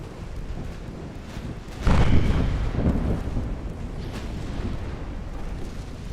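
Secondary gun turrets, three double 8.9 mounts on a warship in Ultimate Admiral Dreadnoughts, fire in a deep booming burst that rumbles and fades under a steady wind-like roar.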